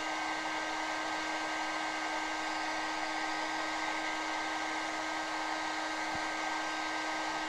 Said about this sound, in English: The heat gun is perfect tool for this.